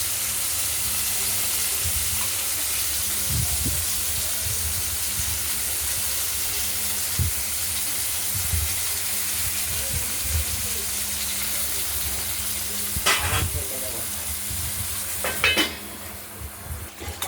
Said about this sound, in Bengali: দেখতে থাকুন, পটলটিও ভাজা হতে থাকুক।